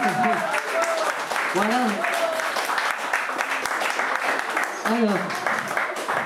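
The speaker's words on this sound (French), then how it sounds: "Vous pouvez applaudir leur travail quand même." An audience claps for a newly unveiled fresco, a steady spread of applause throughout while voices talk over it.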